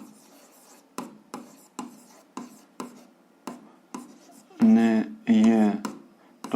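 Pen strokes tap and scratch across paper in short regular bursts while an algebra solution is written out by hand, with a voice briefly talking near the end.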